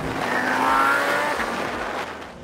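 Audi R8 fitted with performance parts drives on a road after rain, a close engine drone that swells and then gradually eases off, with tire and wind noise and no talking.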